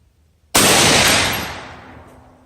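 A single sharp gunshot cracks loudly at a shooting round's final shot, its echo decaying over the following two seconds with no talk.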